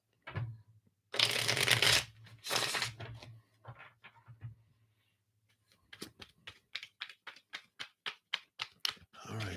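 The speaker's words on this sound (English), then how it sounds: "Let me just refresh these cards real quick here." Tarot cards shuffled up close, with loud riffling bursts at the start, then a quick, even run of crisp card flicks and snaps, all with no talking.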